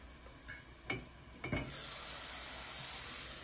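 Sausage sizzles and fries in a pan for a home-cooked sausage and rice dish, a steady crackling hiss with two brief clanks of a utensil stirring before the frying noise swells and holds.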